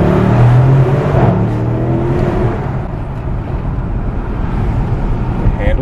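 A BMW 750i M Sport pulls hard with a loud engine roar that peaks early and then settles into a steady drone and road noise, with a voice talking over it.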